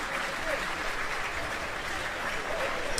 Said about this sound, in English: Kaforzi off to be replaced to a round of applause from the crowd here at Loughborough